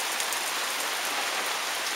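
Steady rain falls on a vegetable garden with cucumber trellis and beans, a dense, even hiss of drops close by with no voices.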